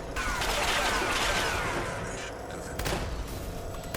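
Heavy weapon fire from Fallout 76 during a raid fight against a shielded enemy: a dense, continuous roar of rapid shots, loud and close, that eases slightly midway and then picks up again.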